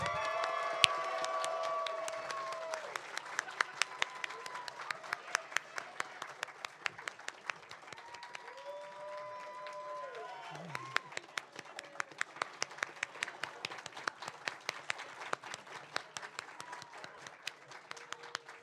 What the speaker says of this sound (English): let's give a round of applause over to, drumroll please, VTuber Kiara